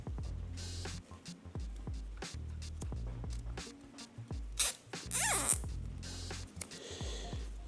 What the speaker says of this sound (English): rather than have it fall down, you can just zip tie it